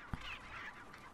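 A hen in the video game Resident Evil 4 gives a short, sharp cluck, a single brief burst amid steady background game ambience.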